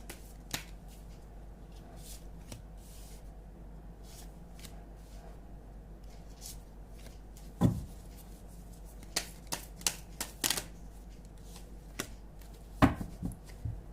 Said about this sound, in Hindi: मैं फिर कह रही हूँ मुझे शफल करने में हो सकता है थोड़ा सा समय लग जाए